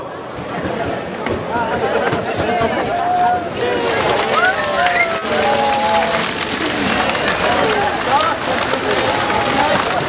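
Pigeons coo in an open loft at an outdoor country fair, with soft calls scattered over a loud, continuous bed of crowd chatter and a person talking nearby.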